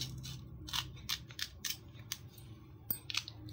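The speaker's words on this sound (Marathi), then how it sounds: "ही भेंडी आहे ना, पुढचं हे एवढं कापून घ्यायचं आणि इथे पण थोडं कापून घ्यायचं।" Okra pods are slit open for fried bhindi with a string of crisp, close snipping cuts that come in quick irregular bursts over a low background hum.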